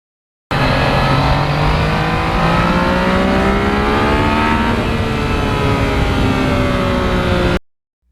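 A Yamaha MT-09 motorcycle is ridden hard, its engine revving loud and close with rising and falling pitch sweeps as it accelerates and shifts, continuous for several seconds before cutting off.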